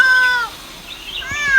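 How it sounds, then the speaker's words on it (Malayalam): A cat gives two close, clear meows, the first drawn out and the second rising after a short pause, loud and near with no talk over it. "ഇതാ പൂച്ച"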